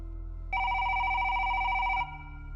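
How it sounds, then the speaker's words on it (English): A public telephone rings as a sound effect, one steady electronic ring tone lasting about a second and a half, loud and close over a low hum. "when the public phone rang."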